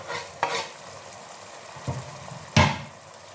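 Chicken fries and sizzles in a pan for a dish with potatoes. A steady hiss runs throughout, broken by three spatula scrapes as the pieces are stirred, the last one the loudest.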